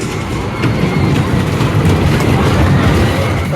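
Grand National wooden roller coaster train at Blackpool Pleasure Beach clattering along its track, a loud, continuous low rumble and rattle heard close by, with no talk.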